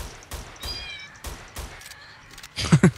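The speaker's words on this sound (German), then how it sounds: "Schon wieder die Katze." A domestic cat meows several times in short, separate calls, fairly close and clear. A louder, harsher cry comes at the end.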